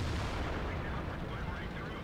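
A tank gun firing in World of Tanks, a dense broadband boom with a rumbling low end that rolls on for about two seconds.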